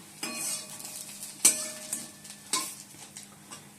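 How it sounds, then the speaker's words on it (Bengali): Papad frying in a little white oil, a few sharp bursts of sizzle and utensil clatter spaced about a second apart, close and moderately loud over a quiet background. "একটু সাদা তেল দিয়ে পাঁপড়টা ভেজে দেবো"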